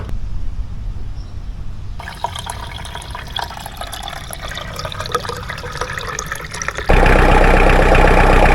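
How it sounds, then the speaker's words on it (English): A Mahindra diesel tractor engine idles steadily with a low rumbling chug, then grows louder and rougher near the end as it revs up, no talking. "it sounds like your typical diesel tractor"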